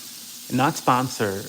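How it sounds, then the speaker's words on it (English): Dawn Platinum Power Wash dish soap sprays onto a dirty dish in three quick hissing bursts, close and fairly loud, over faint background noise. "this Dawn Platinum Power Wash spray, fucking go"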